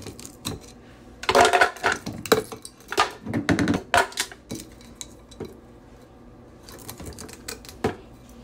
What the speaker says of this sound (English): Just put my ice cubes.